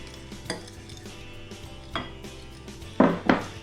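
Oil is stirred into a dry thyme and serrano chili seasoning in a bowl, giving soft scraping strokes with a few clinks and two louder knocks near the end. The sounds are close and have no talking over them.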